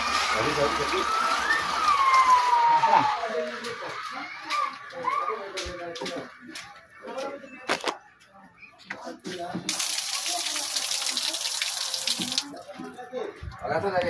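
Water sprays hard and steadily from a homemade faucet driven by a DIY pump motor, a continuous close rushing hiss with splashing surges, while people talk over it.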